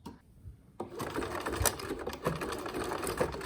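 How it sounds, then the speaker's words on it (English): A home sewing machine runs a steady zigzag stitch along the frayable edge of fabric for menstrual panties, a continuous close whirring chatter that starts after a brief pause and keeps going at an even, rapid rhythm. "I'm gonna zigzag it just because this is such a frayable edge."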